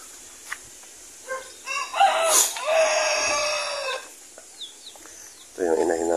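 A mother hen clucks and cackles close by in short bursts, with a rooster-like call rising in the middle and quiet farmyard sounds between.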